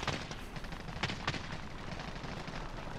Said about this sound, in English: Shooting. That DMR.